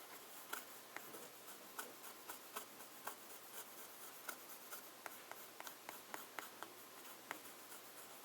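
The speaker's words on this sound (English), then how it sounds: "For regular nib smoothing, you wouldn't do this as extensively as I've been doing here" A fountain pen nib is smoothed against an abrasive surface, producing a long run of faint, rapid scratchy ticks in a steady rhythm, close up and alone over low background hiss.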